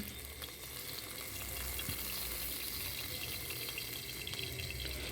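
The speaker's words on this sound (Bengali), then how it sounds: "এইভাবে আমি সবগুলো মাছ ভেজে তুলে নিচ্ছি" Pabda fish frying in oil in a kadai, a steady close sizzle with faint scraping and stirring throughout, no voices.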